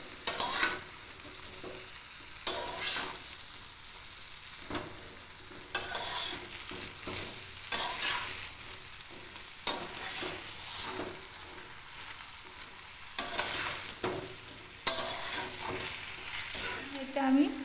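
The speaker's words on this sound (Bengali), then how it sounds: "বেগুনগুলো দিয়ে আমি একটু নেড়ে নেব" Eggplant pieces frying in a pan with a home-cooked potato and tomato vegetable dish, stirred in repeated scraping bursts over a steady low sizzle, close and moderately loud, with no talking.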